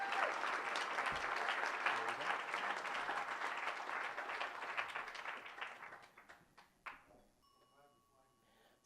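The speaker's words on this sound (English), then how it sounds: "I'd like you all to give a big round of applause to Lynn and John" Audience applause for two speakers at an architecture event in Portland, Maine, a sustained roomful of clapping that fades out after several seconds, leaving a few scattered claps and quiet room tone.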